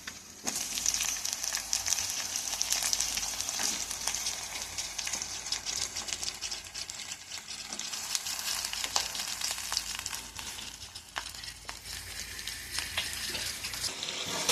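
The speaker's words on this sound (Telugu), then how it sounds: "మనం హాఫ్ కేజీ చికెన్ ఫ్రెష్గా కడిగి దీంట్లో వేసుకుందామండి." Half a kilo of freshly washed chicken frying in a pan for a home-style chicken gravy curry, a continuous crackling sizzle with occasional stirring scrapes, close and steady throughout.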